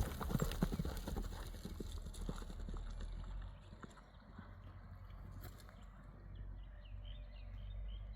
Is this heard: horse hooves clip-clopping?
yes